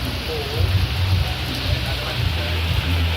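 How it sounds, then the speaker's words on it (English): Heavy rain pours steadily during a storm at an outdoor market, a dense continuous hiss with low rumbling gusts of wind throughout, loud and close. "A lot of rain. So I got caught in that storm."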